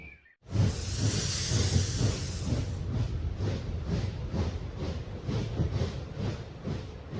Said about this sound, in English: That's our train from last night.